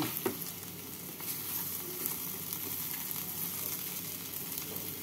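Pointed gourd and rice being stirred in a hot pan with sugar added, giving a steady close sizzle and frying hiss with occasional scraping clinks of the spoon; no one speaks.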